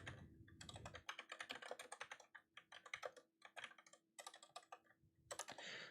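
Fingers type rapidly on a computer keyboard, a close, crisp run of clicky keystrokes in uneven bursts with brief pauses between them and no talking.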